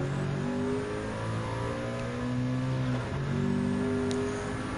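A race car engine in Gran Turismo 7 pulls through full-throttle acceleration, rising in pitch through the gears with a brief dip at a shift, loud, close and continuous with no talking.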